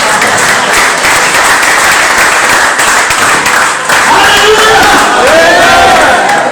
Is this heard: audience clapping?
yes